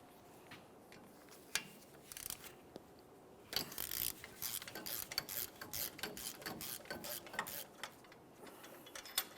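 A ratchet loosens steering knuckle bolts on a 2007-2018 Jeep Wrangler, with quick close-up bursts of clicking that come thicker and steadier in the second half.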